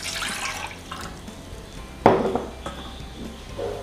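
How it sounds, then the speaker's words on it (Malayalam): About two cups of water poured into a cooking pan to start a sugar syrup: a soft running splash against the metal, with a sharper clank of the pan at the midpoint. The kitchen sound is close and there is no talk. "2 കപ്പ് വെള്ളമാണ് ഞാനിതിലേക്ക് ഒഴിക്കുന്നത്"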